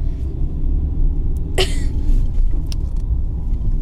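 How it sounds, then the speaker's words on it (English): Old 2007 bus stopped in town traffic just ahead, a low steady engine rumble and idle with a brief sharp hiss of air brakes partway through. "See, th th there's a bus in front of us. It literally just pulled up."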